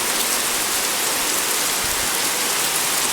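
Rain falling steadily on a rainy day in the mountains, a dense, loud, unbroken hiss of drops on surfaces, close and constant with no talk.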